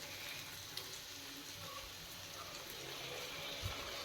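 Chopped onions frying with fish in a hot pan, giving a steady, soft sizzle and crackle with occasional small pops and no talking.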